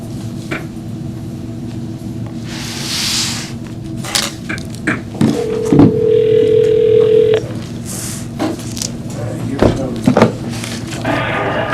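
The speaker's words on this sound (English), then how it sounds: "so I'm gonna call Joe" A telephone dial tone sounds during a call placed from a public planning commission meeting, a steady hum lasting about two seconds amid room noise, clatter and brief bursts of voices.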